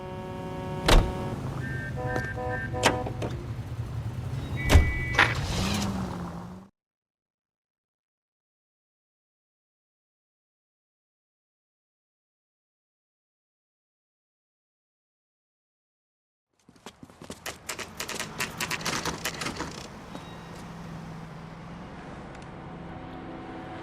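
A car driven in the video game L.A. Noire: engine and road noise with mechanical clicks, then a long stretch of silence before the driving sound resumes, moderately loud.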